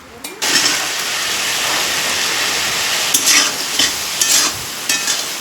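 Drumstick leaves stirred and fried in a black iron kadai: a steady, close hiss of frying under repeated scraping stirs of the spatula, with a few louder scrapes toward the end.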